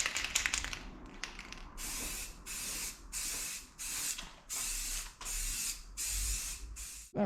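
A spray can lays a first coat of diamond black paint during the restoration of a Mk3 Cavalier 2.0 16v, hissing in about six steady one-second bursts separated by brief pauses, close and fairly loud.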